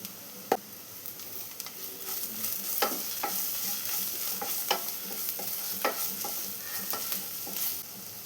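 Ginger and garlic sauté in a pan with a little turmeric for a chicken curry, a continuous sizzle broken by repeated sharp scrapes and taps of a spatula against the pan.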